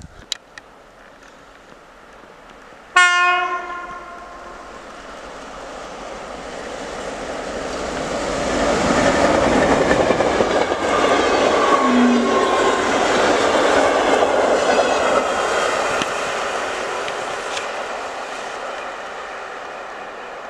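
A TLK passenger train in Poland approaches with a loud horn blast, then rumbles past steadily with rhythmic wheel clatter before gradually fading.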